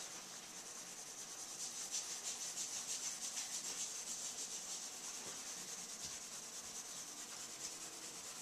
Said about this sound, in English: So I'm gonna shade it again.